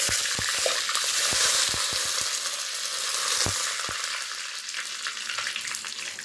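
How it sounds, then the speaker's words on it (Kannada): Hot oil sizzles and crackles steadily, with sharp pops and spits from mustard seeds bursting at irregular intervals near at hand. "ಈಗ ನಾವು ಉಳಿಸಿದ್ದಂಥ ಕಾಳುಗಳಲ್ಲಿ ಒಗ್ಗರಣೆನ ಹಾಕ್ಕೊತಿದ್ದೀನಿ"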